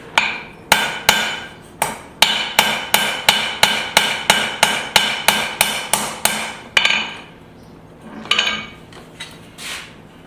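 A hammer forges the bevel on a scrap-steel knife blade into a steep Scandi edge, landing a fast, steady run of loud ringing metallic strikes close by, then a pause and a few fainter knocks.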